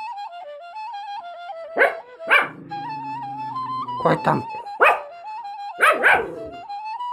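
A dog at home barks in several sharp, close bursts, with whimpering yips between them, over a steady tonal melody playing in the background; a person briefly speaks.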